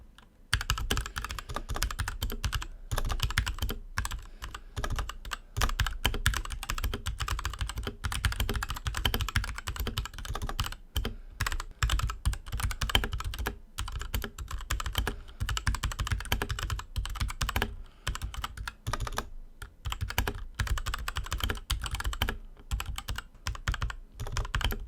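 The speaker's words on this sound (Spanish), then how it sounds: "podréis ver y oír la diferencia entre un switch bien lubricado y uno sin lubricar pero con O-rings" Mechanical keyboard switches, some well lubricated and some unlubricated but fitted with O-rings, clatter in steady, fast, close-up typing for the whole stretch without pause.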